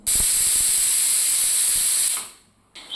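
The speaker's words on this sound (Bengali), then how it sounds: "তিন চারটে সিটি দিয়ে আমটাকে সেদ্ধ করে নিচ্ছি" A pressure cooker boiling green mango lets out a loud, steady steam whistle that hisses for about two seconds, then tapers off into quiet before a brief faint hiss returns.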